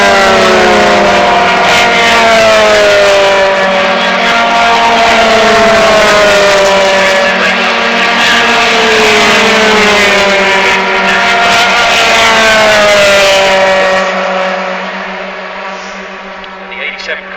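Race cars at Silverstone circuit roar loudly past, engines sweeping and shifting pitch as they run through Becketts and Chapel Curve, then fade away near the end, with faint commentary underneath.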